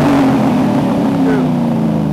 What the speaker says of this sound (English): pipes, mid-muffler exhaust system